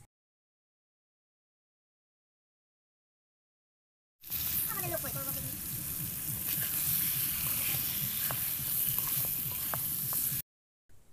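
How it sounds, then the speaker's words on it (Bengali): Chicken pieces sautéed with spices in a pan start sizzling and scraping after about four seconds of silence, with steady frying hiss and rhythmic stirring strokes close by, then cut off abruptly. "এইভাবেই খুব ভালো করে আমি মাংসটাকে কষে নেব"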